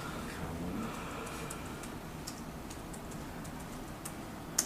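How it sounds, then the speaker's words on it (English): Someone types into a LibreOffice Calc spreadsheet on a computer keyboard, producing quiet, irregular key clicks over a low room hum. "go in there, just start typing."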